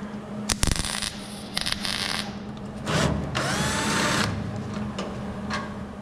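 A power drill backs a screw out of a fiberglass rear quarter panel on a 1967 Shelby GT500 Mustang, heard as several short, sharp whirring bursts followed by a longer steady buzz in a shop with a low hum.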